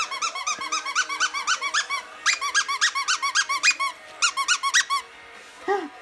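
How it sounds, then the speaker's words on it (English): A squeaky dog toy is squeezed over and over in rapid runs of high, sharp squeaks, close and loud, with short pauses between bursts and one lower squeak near the end. "Shall we hear the squeak? Where's the squeaker in this one?"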